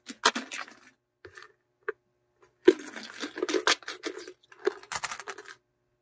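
Saved coins are handled and dropped, with bursts of metallic clinking and jingling, a few single taps, then a longer run of rattling coins, close and fairly quiet with no talking.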